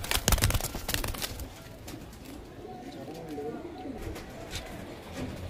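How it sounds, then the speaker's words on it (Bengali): Madras pigeons coo softly in a pigeon loft, low murmuring calls repeating over a busy background with scattered knocks and rustling. "এই দুটো ম্যাড্রাস পায়রা আছে।"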